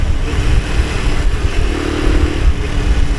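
A Honda C110X Super Cub motorcycle with 80,000 km on it, its small engine revving and pulling through successive gear changes, loud and close with a steady buzzing drone throughout.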